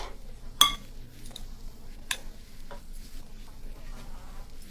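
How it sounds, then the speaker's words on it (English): A spoon scrapes and clinks through a breadcrumb mixture in a pan over a soft background sizzle, with a sharp metallic clink early on, another partway through, and quieter scrapes between. "got this all stirred up"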